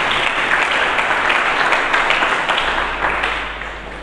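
A church congregation claps loudly and continuously in a big, full wash of applause that gradually tapers off toward the end.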